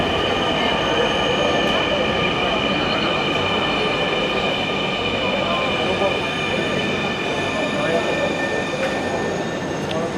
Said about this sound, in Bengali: বলতে না বলতে মেট্রো এসে পড়ছে